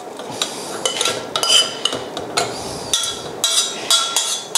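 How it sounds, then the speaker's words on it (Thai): Gravy sauce of meat and vegetables strained through a fine strainer into another pot in a kitchen, with repeated metallic clinks and scrapes of utensils against pots and an irregular rhythm, heard up close and without talk. "กรองลงไปเลยกรองละเอียดครับ"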